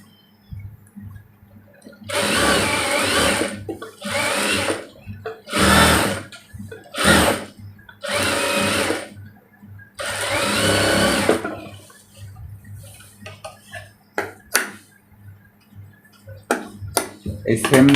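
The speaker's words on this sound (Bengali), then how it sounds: "তারপর চাপ সেলাই দিয়ে নেবেন।" A sewing machine stitches a kameez neckline in several loud mechanical bursts of rapid clatter, each lasting about a second, separated by pauses, followed by lighter clicks and taps near the end.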